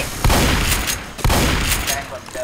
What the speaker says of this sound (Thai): นี่ลูกซองไม้